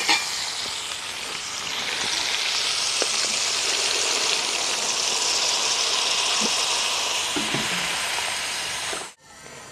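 Fish curry in tamarind gravy sizzles and hisses steadily in a pan, a dense continuous frying sound with a few faint clinks, close up, ending abruptly.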